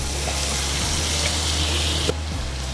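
Lemongrass and spices frying in melted margarine give a steady, close sizzle with faint stirring, and a brief clink near the end.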